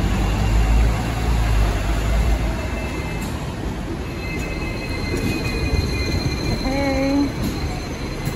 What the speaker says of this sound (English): Magta-tram tayo, the cheapest transportation in Hong Kong.